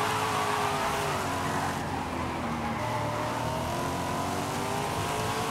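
A Corvette C8 in a racing video game accelerates with a loud, sustained engine roar, its pitch climbing and shifting through gears, close and continuous without speech.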